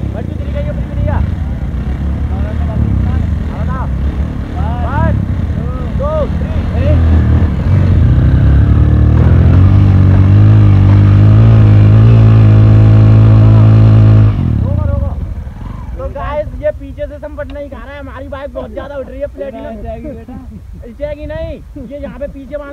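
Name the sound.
Bajaj Platina and Honda CT 100 motorcycle engines revving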